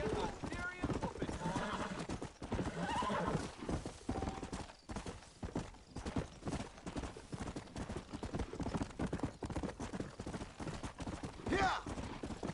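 Horse hooves clip-clopping and an occasional neigh in the Red Dead Redemption video game: rhythmic hoofbeats run throughout under a mix of game sounds and voices talking over them.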